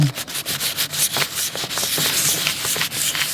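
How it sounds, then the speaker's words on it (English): Rhythmic back-and-forth scrubbing of light wet sanding with warm water on truck paint, close and steady, with soft swishing strokes repeating several times a second. "I got some warm water here, and so it's a light little wet sanding."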